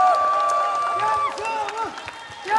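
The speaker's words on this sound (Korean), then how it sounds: "행복하셨다면 박수로 좀 화답을 해주시면 좋을 것 같은데요" A trot concert crowd applauds steadily, with cheering and shouted voices mixed in. Loud throughout and swelling again at the close.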